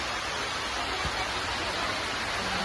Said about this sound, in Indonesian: Harinya hujan guys, hujan.